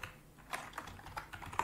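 Quick, light keystrokes on a computer keyboard, a short run of irregular clicks close by and fairly quiet.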